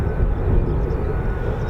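An F-35B stealth fighter taxis at an RAF air station, giving a steady, broad jet roar with a low rumble, heard from moderately far away with no voices.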